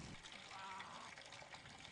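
Water slowly fills up in the video game SchoolBoy Runaway, a faint, steady rushing trickle that runs on without a break.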